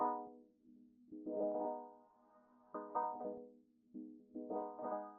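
Atmospheric techno pad with vinyl crackle, run through an auto filter set to low pass: muffled, warm sustained chord swells rising and fading in a slow repeating rhythm, no highs, played alone.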